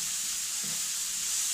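Chopped onion fries in a hot pan for lentil soup, giving a loud, steady sizzle and hiss with a faint stir partway through, no voices.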